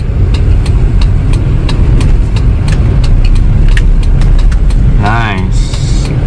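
A 2002 Toyota Kijang LGX 2.0 EFI runs with a loud, steady engine drone and road rumble as it is shifted into second gear. A brief warbling voice-like sound rises near the end.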